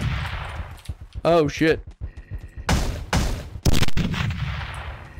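A can gun firing in the video game Teleglitch, with several loud, sharp blasts in quick succession, close and punchy; a man exclaims briefly between the shots.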